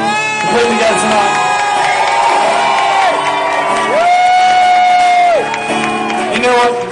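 At a concert the crowd roars for someone named Laura with loud sustained cheering, whoops and shouting, dense and continuous, with a few sung or yelled tones rising out of the mass of voices.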